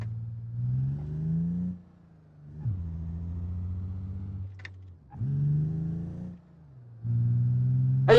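A car engine revs hard under acceleration in four rising pulls separated by brief dips at gear changes, with a smooth, droning tone that climbs in pitch through each pull.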